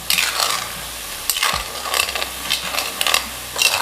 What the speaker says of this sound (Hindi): तो खुरमा को हम गोल्डन ब्राउन होने तक अच्छे से फ्राई कर लेंगे